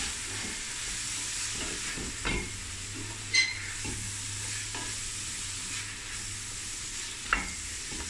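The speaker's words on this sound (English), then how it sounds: "I'm just going to fry this." Spices and salt fry in a pan, a steady low hiss and sizzle punctuated by a few sharp spoon scrapes and knocks against the pan.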